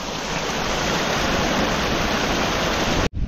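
Steady, loud rush of spring water from Banahaw gushing through a pipe, a dense continuous hiss with no pauses, cutting off abruptly just before the end.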